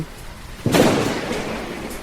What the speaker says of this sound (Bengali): বৃষ্টির মধ্যেই দূরে কোথাও একটা বাজ পড়ার শব্দে কেঁপে গেল চারিদিক